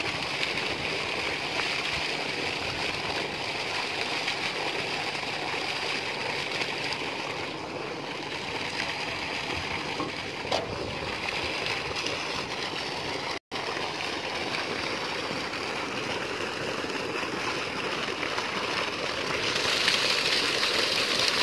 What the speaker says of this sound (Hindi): अब जुगाड़ लगाते हैं और मोटर ऑन करते हैं